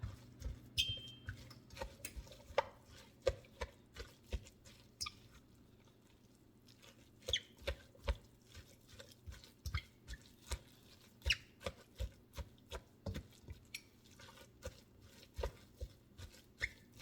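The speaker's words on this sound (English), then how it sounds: "I'm going to mix this up really, really well." Turkey meatloaf mixture being mixed by hand in a bowl, giving soft wet squelching and slapping sounds in an irregular run of close, quiet bursts with no talking.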